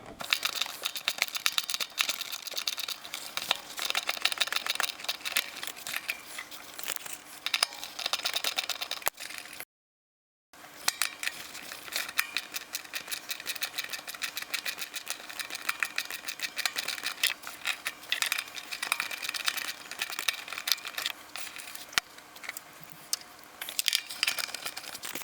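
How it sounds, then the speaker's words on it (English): A 7/32 socket on a 1/4 inch ratchet backs out blower motor resistor screws, giving a steady run of fast, close metallic clicking that pauses briefly partway through, then resumes. "I've got a 7/32 socket on a 1/4 inch ratchet."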